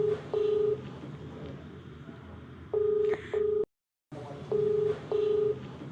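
A telephone number is dialed, short paired touch-tone beeps in small groups, two at the start, two mid-clip and two more after a brief silent gap, over faint background hiss.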